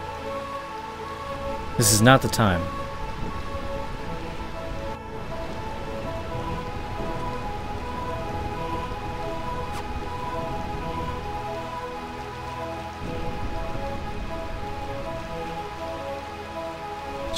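Steady rainfall in Burmecia, the Realm of Eternal Rain, in Final Fantasy IX, an unbroken hiss of rain under a sustained musical tone, with a short spoken line early on.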